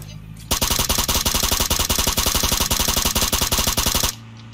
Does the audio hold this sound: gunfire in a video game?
yes